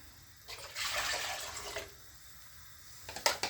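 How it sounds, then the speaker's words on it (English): Water poured into a cooking pot already holding coconut milk, making a steady splashing pour for about a second, then a quieter trickle and a few sharp clinks near the end. "Add some water in"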